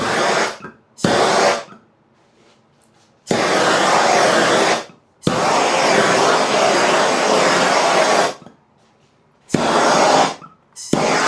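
A torch runs in loud, steady hissing bursts during an electric bass build, several long blasts of roaring flame separated by silent gaps.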